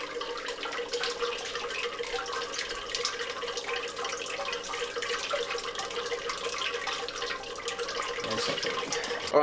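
Hot water draining through mashed grains during brewing of a pina colada pale ale, a steady, continuous trickling and splashing flow that runs close and fairly loud for the whole stretch without a break.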